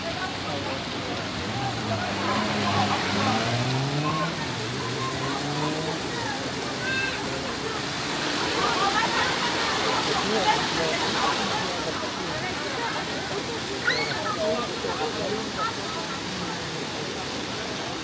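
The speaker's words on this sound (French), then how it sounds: "les cascades, elles sont là" Continuous rushing roar of a waterfall fills the scene, steady and fairly loud, with people talking faintly underneath.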